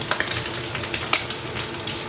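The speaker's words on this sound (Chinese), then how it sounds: "下入焯好水的五花肉，用中小火先煸炒一下" Blanched pork belly stir-fried over medium-low heat in a wok, rendering its fat: a continuous sizzle and hiss with a few light clinks and scrapes from stirring, close and steady.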